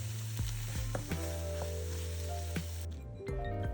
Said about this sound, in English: Stir until everything is well coated.